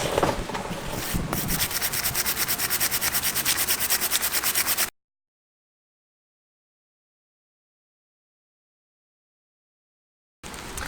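Rust being scraped by hand off a corroded metal-detecting find, a steady, close, rapid rhythmic rasping for about five seconds, then silence before the scraping briefly resumes at the end.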